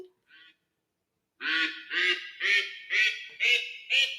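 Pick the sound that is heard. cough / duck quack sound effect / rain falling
duck quack sound effect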